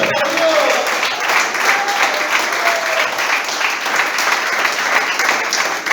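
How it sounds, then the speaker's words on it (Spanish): Church congregation breaking into loud, dense applause during a sermon, a steady wash of many hands clapping together close by, with a voice briefly heard over it. "Aplaudan mi Biblia."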